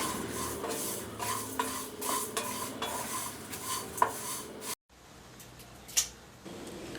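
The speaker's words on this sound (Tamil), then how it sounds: "ஸ்டவ் ஆன் பண்ணி மீடியம் ஃப்ளேமில் வச்சு ஒரு 1/2 நிமிஷம் வறுத்தா போதும்" Whole garam masala spices dry roasting in a kadai over a medium flame, repeated dry scraping and rattling stirs with faint sizzling and a clink of metal, then a quieter stretch with a single knock.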